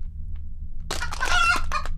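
A chicken clucks and squawks in the horror game Tamagorudo, a burst of loud, close, raspy calls starting partway in after near silence and continuing to the end.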